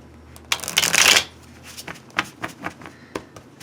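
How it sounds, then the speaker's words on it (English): A tarot deck gets a vigorous shuffle, a loud riffling burst followed by several lighter card flicks and taps close by. "So I wanted to give it a really good shuffle"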